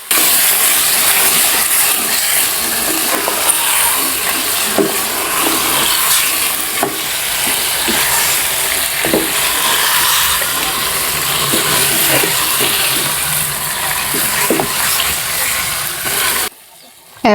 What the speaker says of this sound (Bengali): মশলাটা কষানোর পর এখন আমি মাংসটা দিয়ে দিচ্ছি। মাংসটা দিয়ে তারপরে আরেকটু কষাবো